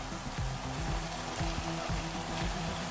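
Onions added to a pan of chilli sauce give a steady, even sizzle, with a low rumble underneath and no talking.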